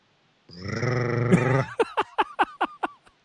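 A man imitates a dog growling with a sustained low rumbling snarl, then adds a series of short, sharp barking yelps, close and loud.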